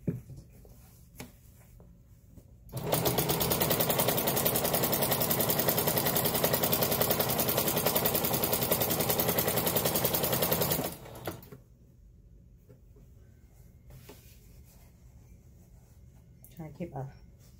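A sewing machine runs steadily for about eight seconds as it stitches along the edge of a blackout lined curtain. The rapid, even whirring is loud and close, with quiet room tone and light handling before and after.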